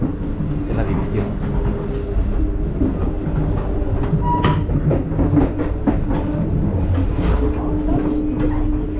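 A passenger train travels on rails between Raleigh, North Carolina and New York, filling the space with a steady, close rumble and faint clatter of wheels heard from inside the carriage, with occasional muffled voices.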